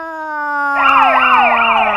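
A loud ambulance siren starts with a steady tone, then a second wailing siren sweeps up and down over it, close and prominent with no talking.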